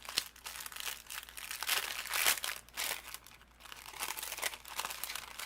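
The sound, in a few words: opening an embellishment bag, crinkling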